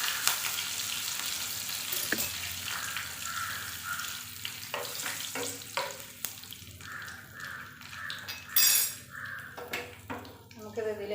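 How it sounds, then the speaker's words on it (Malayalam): Curry leaves sizzling in hot coconut oil after mustard seeds have popped, a steady crackling fry that runs throughout with a few louder bursts and clatters, close to the microphone. "കടുക് പൊട്ടിയതിന് ശേഷം കറിവേപ്പില, ഒരു 2 കറിവേപ്പില കൊടുത്തു."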